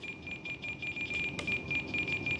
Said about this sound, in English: There's a beep in the middle